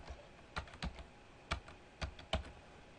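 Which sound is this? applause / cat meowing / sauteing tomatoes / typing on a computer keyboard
typing on a computer keyboard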